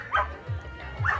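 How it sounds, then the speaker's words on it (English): Dog barks ring out twice amid a busy crowd at a dog event, short yips rising over a steady murmur of background chatter. "and of course, barking."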